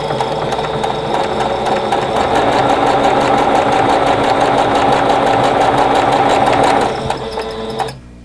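A sewing machine chain-stitching fabric pieces at a 2.5 stitch length along a quarter-inch seam runs in a steady, rapid mechanical whir for several seconds before winding down and stopping near the end.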